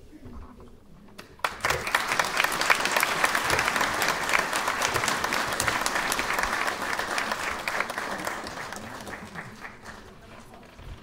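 A theatre audience at a concert event bursts into applause after a short quiet pause, dense clapping that swells and holds for about ten seconds, then eases slightly.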